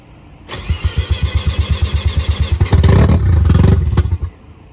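A Mazda FC RX-7 with a swapped Turbo II rotary engine cranking, a rapid rhythmic starter chugging for a couple of seconds before the engine catches and roars loudly up close, then settles.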